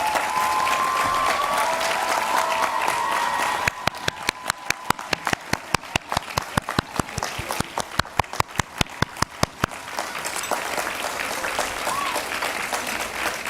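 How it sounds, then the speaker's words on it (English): At a university commencement ceremony, the audience applauds the faculty with sustained crowd clapping. In the middle stretch, a burst of sharp, regular claps stands out close by before the applause settles back into a continuous wash. "we can give them all a round of applause if you're able"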